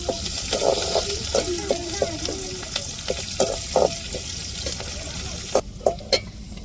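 Curry leaves crackle and sizzle in hot oil in a pan while a spoon stirs, giving a steady frying hiss broken by scraping strokes and sharp clinks.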